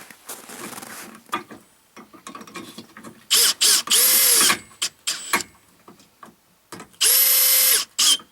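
A power drill runs in several short bursts and two longer whines, tightening bolts with split and flat washers on Can-Am Defender half doors; faint clanks and handling noises fill the gaps between runs.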